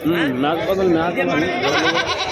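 Large male goats at the Pebbair goat market bleat loudly and close by, wavering drawn-out calls over background market chatter and voices.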